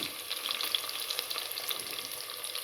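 Oil heating and frying in a pan makes a steady, bright crackling sizzle with scattered pops, close and constant throughout, with nobody talking.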